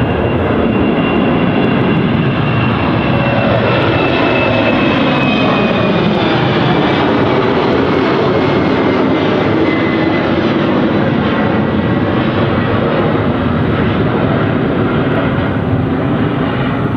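A KLM airliner departs London City Airport, its jet engines roaring loud and steady for the whole stretch, with a sweeping tonal whine shifting as the aircraft passes nearby.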